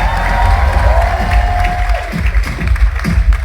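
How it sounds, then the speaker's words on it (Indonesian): A large audience claps and cheers loudly at an Indonesian televised event with presidential candidates, a dense burst of applause with shouts rising over it and a held tone briefly above, with uneven surges throughout. "Sekali lagi dong, tepuk tangan yang kencang sekali, luar biasa."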